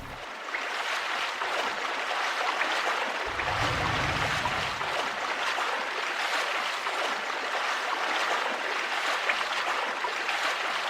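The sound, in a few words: flowing water in video game Star Fox Adventures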